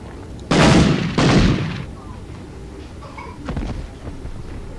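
Two loud, close gunshot bursts in the PS1 video game Medal of Honor, each ringing out briefly, followed by quieter scattered shots and clatter.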